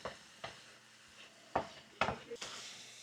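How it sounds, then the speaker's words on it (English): Food sautéing in a pan during sea bass preparation: a few sharp stirring scrapes and clacks stand over a faint, steady background sizzle. "We're gonna let that saute."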